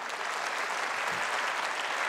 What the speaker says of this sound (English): give yourself a hand clap of praise for making it through a wonderful 2012